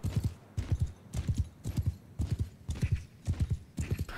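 Horse hooves from a ridden horse in the video game Mount & Blade 2 Bannerlord, a steady galloping clip-clop in quick repeating triplets, fairly close and unaccompanied by talk.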